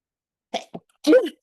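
A single person's sneeze, close and sudden: two quick sharp intakes followed by a forceful burst, alone in silence.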